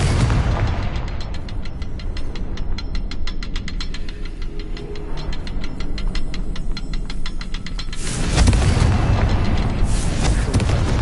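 Confringo blasting spell in Hogwarts Legacy set off in a fight against a spider: loud rumbling magical bursts and rapid crackling fill the first eight seconds, then a heavier deep explosion booms and lingers.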